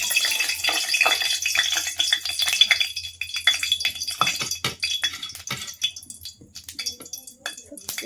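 Vegetables sizzling as they are tempered in hot oil for a Chhattisgarhi-style dish of potatoes, chickpeas and green bora beans, with close crackling, rattling and stirring clatter that gradually thins toward the end.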